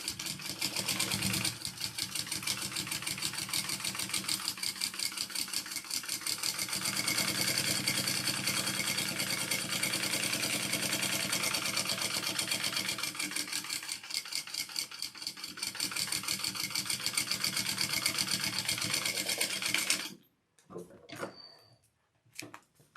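A sewing machine stitches steadily at close range, basting the lining and exterior layers of a bag together in one long continuous run before stopping abruptly, followed by a few brief handling noises.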